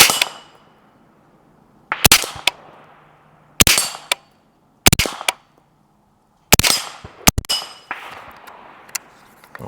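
An Extar EP9 9mm pistol-caliber carbine fires a string of sharp shots, each followed by a metallic ring from steel targets, coming in spaced bursts of two or three with quiet gaps between.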